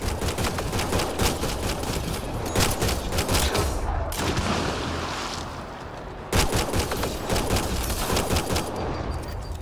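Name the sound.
gunfire in the video game Mass Effect Andromeda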